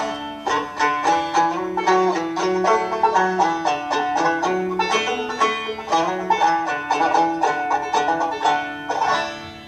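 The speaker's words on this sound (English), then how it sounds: "One of them on here is that old Stephen Foster song, "Hard Times Come Again No More." Sounds like this." The old Stephen Foster song "Hard Times Come Again No More" played in an instrumental recording, a clear, steady melody over sustained harmony with evenly plucked notes, loud and upfront with no voices.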